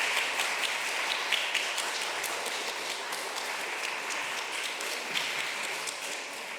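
A church congregation in Dortmund applauds warmly as a discipleship-course completion plaque is presented at a Sunday service: dense, steady clapping that carries on throughout and fades slightly at the end.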